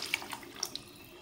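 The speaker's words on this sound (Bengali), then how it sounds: "এখন আমি আগে থেকে গরম করে রাখা জল দিয়ে দিব" Pre-heated hot water poured into a fish curry in a pan, a soft close splashing and trickling with a few brief bright drips, quiet and steady.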